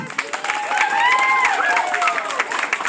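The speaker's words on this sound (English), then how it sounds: "Can we get a round of applause for the kids?" An audience applauds the children at a homesteading gathering, with steady clapping joined by cheers and excited high-pitched voices carrying through the crowd.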